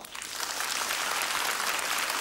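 Audience at a stand-up comedy show clapping together, a dense, steady burst of applause that swells quickly and holds, with no speech over it.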